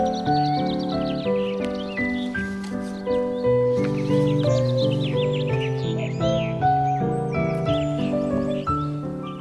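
Jonasson's Cuckoo Waltz plays as a steady, bright melody with high chirping forest birdsong scattered over it, loud and continuous without talk.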